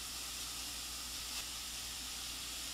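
A soft, steady hiss of sausage sizzling in a pan, continuous and fairly quiet, with no talking over it.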